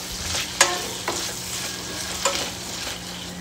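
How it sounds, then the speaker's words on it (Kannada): Coconut pieces, tomatoes and sambar onions fry and sizzle in a pan, a steady hiss broken by a few sharp stirring clanks of the utensil, close and alone. "ಇದನ್ನು ಚೆನ್ನಾಗಿ ಒಂದು ಸ್ವಲ್ಪ ಸಾಫ್ಟ್ ಆಗೋ ತನಕ ಫ್ರೈ ಮಾಡ್ಕೋಬೇಕು."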